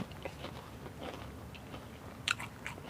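Crispy roti drizzled with condensed milk is bitten and chewed up close, soft crunches and mouth sounds recurring faintly over low background noise, with a sharper crunch near the end.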